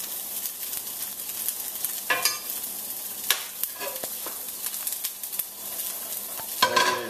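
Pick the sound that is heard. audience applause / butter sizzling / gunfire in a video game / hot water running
butter sizzling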